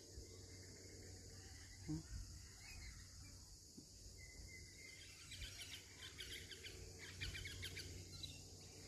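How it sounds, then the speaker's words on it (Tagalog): Rainbow lorikeets chattering and chirping in trees outdoors on a morning, a steady busy chorus of bird calls that grows denser and louder in the second half, with faint ambient background. "Iingay ng mga ibon."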